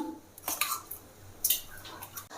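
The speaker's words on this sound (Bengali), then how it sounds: "একটা পাত্রে জল ঝরানো গোবিন্দভোগ চাল দিয়ে দিলাম" Drained Gobindobhog rice is tipped into a pot for payesh, making two short bursts of soft clattering and grainy rustle against a quiet background.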